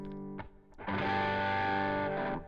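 Electric guitar played through a heavily distorted amp setting, a short picked phrase followed by a loud sustained crunchy chord that rings for over a second, with no voices.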